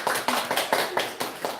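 Seven sharp hand claps in a steady rhythm, close and fairly quiet, with no talking.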